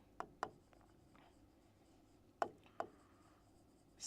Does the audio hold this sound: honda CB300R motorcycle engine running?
no